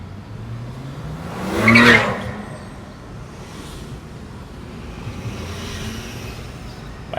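A car drives slowly along A1A in Miami Beach, with a steady low road and engine rumble and one louder vehicle whooshing past early on.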